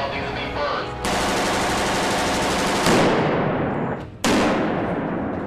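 Loud bursts of rapid automatic gunfire roar close by, with a brief gap before another sustained volley rattles out.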